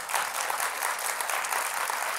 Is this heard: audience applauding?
yes